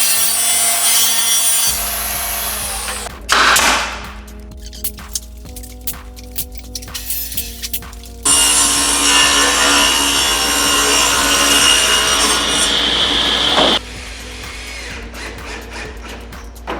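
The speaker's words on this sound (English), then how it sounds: "over the top is our giant piece that Dad is sanding right now" A large wooden dresser piece being power-sanded in a workshop, with a steady loud abrasive whir running in long stretches, broken by short pauses and tool changes.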